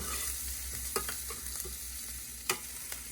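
Mexican rice frying and being stirred in a pan, a steady close sizzle with a few sharp spoon scrapes and clinks against the pan, no talking.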